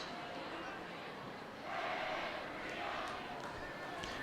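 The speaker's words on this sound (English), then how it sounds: "While the MP crowd, get a little chanting going on" Home crowd at a high school football game chants in the distance, a faint rising swell of many voices across the stands with no clear announcer speech.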